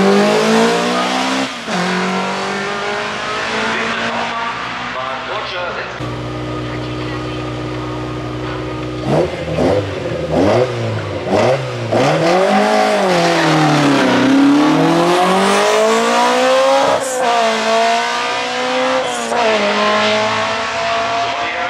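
A BMW E30 320 race car at a hill climb in Bad Liebenstein, its engine revving hard and climbing through gears over about twenty seconds, loud and close, rising and falling in pitch, with a commentator talking over it.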